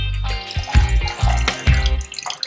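Mountain Dew poured from a freshly opened can into a cup, a close liquid stream broken into several splashing, gurgling bursts over about two seconds with no talking.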